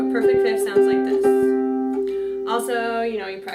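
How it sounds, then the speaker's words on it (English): Two plucked harp notes ring together as a perfect fifth, each pair struck several times, sustaining with a bright, clear resonance. "Perfect fifth sounds like this."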